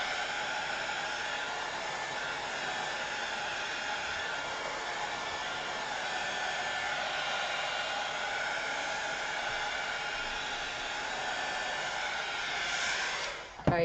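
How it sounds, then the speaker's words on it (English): A heat gun blows a steady, loud stream of air without pause, a broad even hiss that cuts off abruptly at the end with a brief clatter. "I do think the heat gun's a little bit too powerful."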